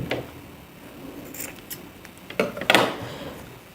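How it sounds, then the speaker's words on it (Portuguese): Scissors cut crochet yarn made of knit fabric strips. Quiet handling and rustling lead up to a couple of sharp, close snips near the end, with no voices. "esse fio eu já vou cortar"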